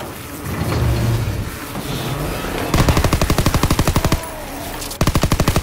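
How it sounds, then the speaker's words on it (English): Machine gun in a zombie video game firing rapid, evenly spaced bursts, loud and close, with two long strings of shots separated by a short pause over a rumbling background. "Damn, my machine gun is a freaking beast."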